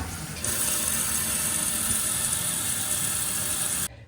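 Water rushes into a Kohler toilet tank after the supply is reconnected, a steady bright hiss that starts abruptly, holds loud and even, then cuts off sharply.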